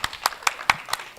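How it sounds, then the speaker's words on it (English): Several distinct, sharp hand claps ring out at a steady, fairly quick pace from a small group at an academic conference, each clap crisp and separate with faint room noise between. "Can we give them a round of applause?"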